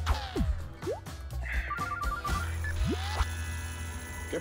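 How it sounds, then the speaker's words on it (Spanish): A telephone rings in an indoor scene, its electronic trill repeating in short bursts amid background music, thuds and other sound effects, with no talk over it. "Y conteste ese teléfono que me tiene... Sí, suena mismito."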